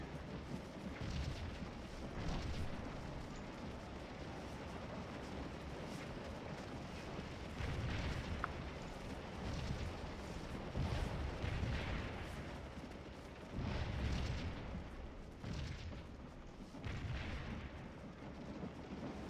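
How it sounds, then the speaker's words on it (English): Repeated artillery fire in the Civil War battle game Scourge of War, Battle of Stones River: heavy booms rolling in at irregular intervals over a constant low rumble, fairly distant and subdued. "Nasty artillery fire."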